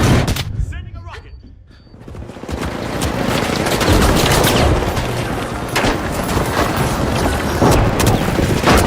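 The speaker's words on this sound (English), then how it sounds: "Sending a rocket!" A rocket fired and exploding in the arena shooter The Finals: a brief lull, then a loud sustained roar and blast with crackling debris and gunfire, with voices under the din.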